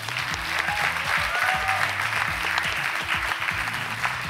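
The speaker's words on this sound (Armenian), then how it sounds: "Մենք սկսում ենք մեր գալահամերգը, ծափարություններ։" An audience at a gala concert claps for about four seconds: dense, sustained applause at a steady level, with a faint tonal sound underneath.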